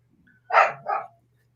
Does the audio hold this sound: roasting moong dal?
no